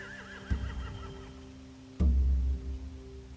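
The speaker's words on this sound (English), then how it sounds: "They have horses." A horse neighs in a game scene: a wavering whinny at the start, then two heavy low thuds or snorts, fairly close and loud against a quiet background.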